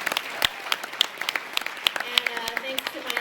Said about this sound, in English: big round of applause for the speakers